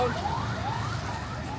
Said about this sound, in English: And then a police car, wow.